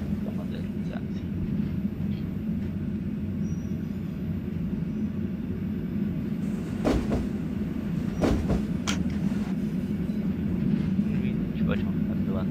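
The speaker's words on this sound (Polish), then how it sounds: "pociąg już się rozpędza" An EN57 electric multiple unit, modernized, accelerating in the MaSzyna train simulator, a steady low rumble of motors and rolling wheels with occasional sharp clicks, heard alone without talk.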